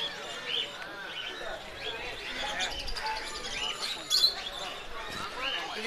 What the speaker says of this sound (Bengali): এই সাইডে দেখুন পায়রা, দেখুন প্রচুর ধরনের পায়রা আছে, অনেক পায়রা আছে